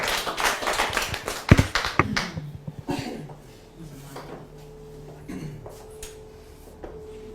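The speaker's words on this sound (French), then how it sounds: "merci d'applaudir pour elle, s'il vous plaît" A small audience at a public-speaking master class claps for a speaker, a dense burst of hand claps for about three seconds that thins out and gives way to quiet room noise with faint murmuring.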